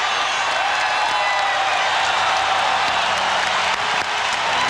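Thousands of fans at Portland's Rose Garden arena roar and applaud in a continuous, loud wash of cheering during a playoff basketball game between Minnesota and Portland.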